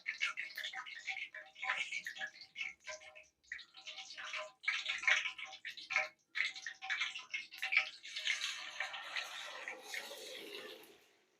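Chicken pieces for spicy chicken bites fry in hot oil, giving a steady, busy crackle and spatter that runs throughout at moderate level with no talking.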